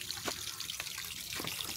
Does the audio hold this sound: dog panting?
no